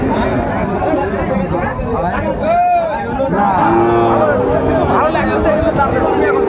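Sahiwal bull calves low loudly at a busy Noakhali cattle market, with a couple of distinct moos rising over constant crowd chatter and talking voices nearby.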